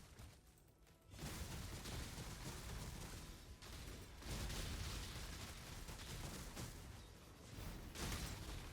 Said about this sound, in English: Oh, it's a big explosion.